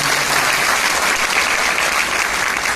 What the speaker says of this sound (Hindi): आजमगढ़ के लाल के लिए एक जोरदार ताली होनी चाहिए।